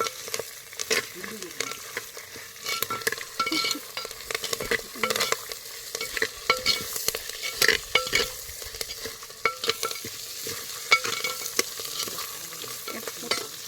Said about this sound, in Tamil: பூண்டு, இப்போ கருவேப்பிலை எல்லாத்தையும் சேர்த்து நல்லா வதக்கிக்கா